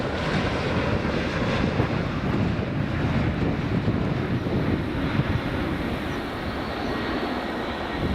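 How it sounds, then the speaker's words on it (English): A United Boeing 757 airliner at Edinburgh Airport, heard as a steady, loud broadband engine roar with wind noise, continuous and unbroken throughout. "So the United 757 here."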